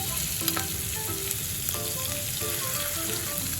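A spice paste of ginger, cumin and dried chilli fries in hot oil with turmeric paste, giving a steady continuous sizzle with faint utensil clinks and tonal pan ringing, close and even, and no talking.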